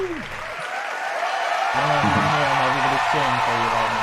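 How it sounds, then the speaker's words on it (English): A studio audience applauds and cheers in a broad, continuous wash of clapping, with a voice talking over the crowd noise. "Everybody's cheering for you right now."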